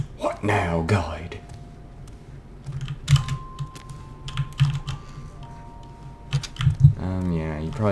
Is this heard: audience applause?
no